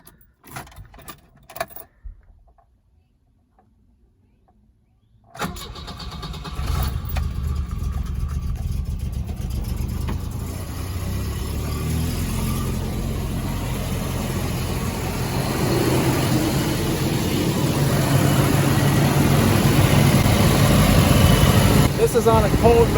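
Keys jangle briefly, then a 1977 Volvo 242 engine cranks and starts and keeps running in a steady idle nearby, growing slightly louder toward the end.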